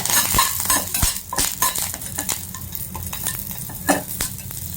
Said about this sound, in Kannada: ಅದ್ರೊಳಗೆ ಕರಿಬೇವು ಹಾಕ್ಬಿಡಿ. ಫ್ಲೇಮ್ ಸಣ್ಣ ಇಟ್ಕೊಳ್ಳಿ.